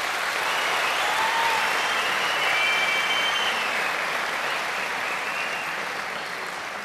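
Audience applause after a dance performance on the Turkish talent show Yetenek Sizsiniz Türkiye, a loud, sustained wash of clapping from a full hall that fades slightly toward the end, with faint cheers.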